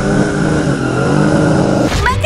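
Car engine running steadily and loudly, then changing as the car pulls away at the end, with a voice calling out over it.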